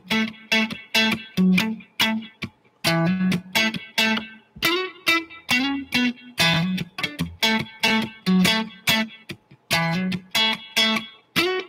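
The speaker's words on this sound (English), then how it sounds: "It's sort of a muted kind of like single note kind of rhythm." Muted single-note funk R&B guitar line in A, a bubbling rhythm of short, choppy plucked notes played steadily with brief pauses, close and clear with an effects-processed tone.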